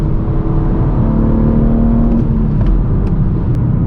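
A BMW M4 G82 with a six-speed manual accelerates, its engine droning loudly and continuously from inside the cabin, a deep rumbling hum with a steady whir as the car pulls along.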